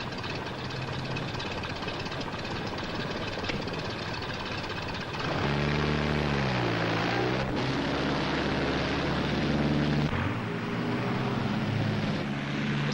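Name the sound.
aircraft engine trying to take off, radio drama effect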